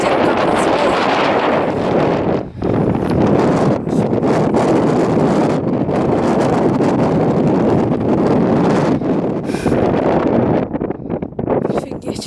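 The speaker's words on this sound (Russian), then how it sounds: "Тут ветер как назло." Strong wind blows over a sand dune, battering the microphone with a steady, loud roaring rumble and gusty buffeting that rarely dips, with no talk over it.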